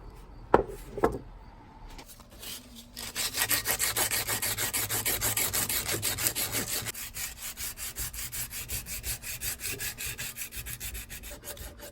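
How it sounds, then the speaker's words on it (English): Charred shou sugi ban wood clamped in a vise is hand sanded with steady, rhythmic back-and-forth rasping strokes, close and fairly loud, after a few knocks at the start. "we'll get it in the vise and hand sand as much as we can"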